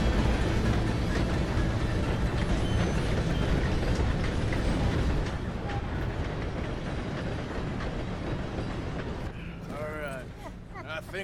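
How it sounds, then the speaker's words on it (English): A passing train in the video game Red Dead Redemption 2 makes a loud, continuous rumbling roar with rattling wagon noise that slowly fades, and an excited voice breaks in near the end. "Gotta beat that train, Morgan."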